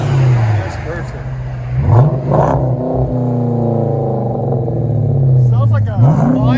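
A Chrysler 300C with a 5.7L HEMI V8 and an aftermarket exhaust idles with a deep, loud rumble, then blips its revs in two sharp rises, one near the middle and one near the end.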